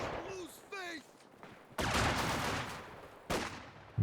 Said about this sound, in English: the conscripts toing and froing, getting a few volleys off here and there